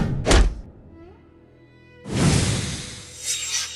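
A woman strikes someone in a drama scene, a sharp heavy thud followed by a pause, then a second louder impact with a crashing, rattling tail.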